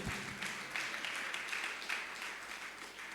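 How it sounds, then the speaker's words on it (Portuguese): A church congregation claps and applauds, a soft, distant wash of many hands with gentle swells, continuing steadily for a few seconds. "Vamos aplaudir ao Senhor."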